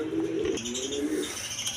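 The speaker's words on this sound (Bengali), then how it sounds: "রাসগোল্লা কবুতর একদম বিগ সাইজের কবুতর" A big-sized Rasgolla pigeon coos close by in a low, drawn-out, throaty call that swells and repeats, with faint chirps in the background and no talking.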